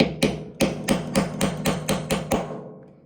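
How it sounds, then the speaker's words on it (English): About nine sharp metallic hammer taps on a pin punch against a Canik TP9 pistol, in a steady rhythm, close up, each with a brief ring, the last ones slightly softer. "Get you a hammer."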